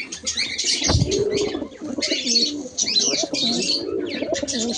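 Lokka pigeons coo softly close by while their chick squeaks and chirps insistently as it is fed, with a brief flutter of wings.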